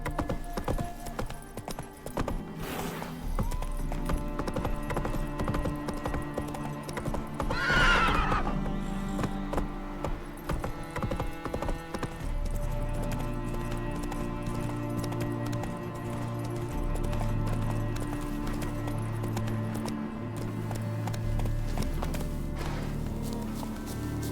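A horse in The Witcher 3 gallops with rhythmic hoofbeats and lets out one loud neigh early on, while music plays underneath throughout.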